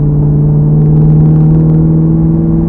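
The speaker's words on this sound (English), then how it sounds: "you guys can go with me and kind of hear the car and see the drive here" A 2009 Maserati Quattroporte S driving on the road, its engine a steady, loud low hum with a strong droning tone and a slight swell midway, heard from inside the car with no talk.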